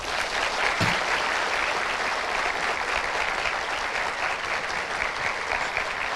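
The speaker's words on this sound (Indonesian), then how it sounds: "Berikan tepuk tangan yang meriah untuk Angga Fauzan." An audience at a talk show filmed on a university campus applauds a guest's arrival with loud, steady clapping that fills all six seconds with no talk.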